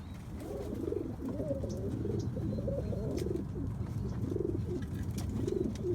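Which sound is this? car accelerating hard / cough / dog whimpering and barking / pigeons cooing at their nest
pigeons cooing at their nest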